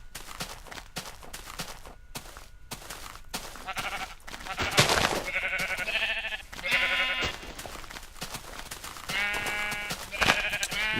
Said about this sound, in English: So just kill a couple of these sheep.